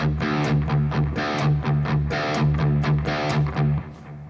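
Tight, palm-muted electric guitar chugging repeats in an even pattern, the note on beat two hit harder. The riff plays loudly on its own, then fades near the end.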